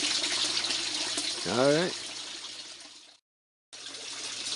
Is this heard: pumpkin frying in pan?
no